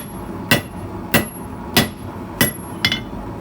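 Hot steel is hammered on an anvil while forging a slot punch: five sharp, ringing blows come at an even, unhurried pace, close and clear, with quiet between strikes and no speech.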